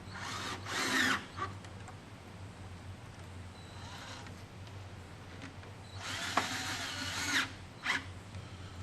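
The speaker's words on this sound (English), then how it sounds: "Now we can do up our clamps." A power tool drives intake pipe hose clamps tight on a Holden VZ V8 in short whirring bursts separated by pauses over a low steady hum.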